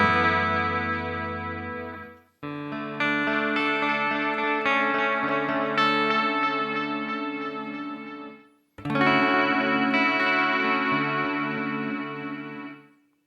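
Electric guitar chords ring out through a Strymon DIG delay pedal with a smooth, wavering modulated delay effect, swelling and sustaining, with a short gap before a fresh strum.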